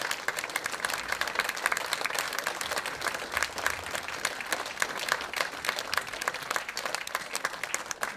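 Concert audience applauding in a hall, a steady, dense wash of many hands clapping at moderate distance, sustained evenly throughout with no voices standing out.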